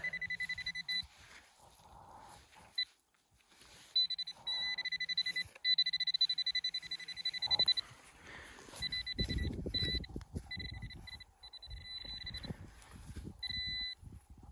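A metal detector sweeping a field for coins gives repeated electronic beep tones in short bursts, some sustained, with rustling and scraping of the search coil through grass and soil near the end.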